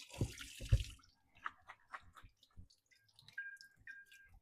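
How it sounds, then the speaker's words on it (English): Salad greens are rinsed under a running tap at a kitchen sink: a short gush of water, then soft splashes, drips and wet handling sounds, close and quiet with no talking. "And then I do like to give the greens another rinse here."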